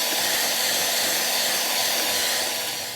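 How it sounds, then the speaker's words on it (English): Electric hand mixer whirring steadily as it creams white sugar and butter for a carrot cake batter, a loud continuous buzzing drone that holds for several seconds, then eases slightly at the end. "not by hand, by a hand mixer."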